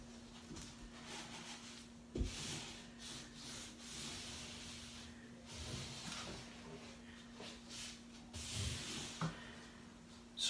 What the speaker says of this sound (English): And now I'm just going to roll over a good coat.